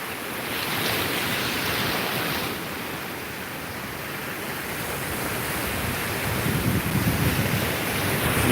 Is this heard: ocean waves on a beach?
yes